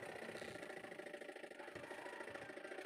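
A noisy engine with a worn gear case and a worn fan belt runs steadily and loudly at close range, a continuous rattling drone with no pauses or voices.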